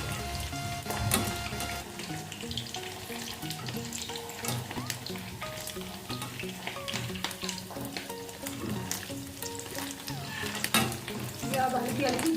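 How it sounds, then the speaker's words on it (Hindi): Potato balls fry slowly over low heat, giving a continuous bubbling sizzle with faint crackles and light stirring, steady throughout. "अब बॉल को फ्राई करते हैं। और ये हमारी धीमी धीमी में सेक रहे हैं।"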